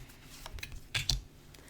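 Tarot cards being drawn from a deck by hand: a few soft, close, quiet taps and papery flicks, spaced irregularly over a near-silent background, with no voices.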